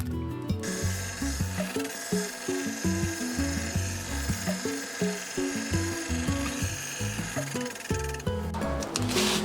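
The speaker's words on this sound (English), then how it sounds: "cutting a long strip of metal, sanding it straight" Steady back-and-forth rasping of a long metal strip being cut and sanded straight, a continuous rhythmic scraping with repeated strokes, close up and fairly loud, no talking.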